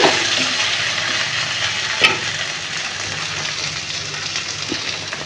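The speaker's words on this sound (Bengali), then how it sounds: "এবার আমি ঢাকনাটাকে খুলে দিলাম দিয়ে এটা একটু নেড়ে দিলাম" Sea fish curry made with small marine mourala fish sizzles steadily in an uncovered pan, with one brief stirring clink near the start and no talk.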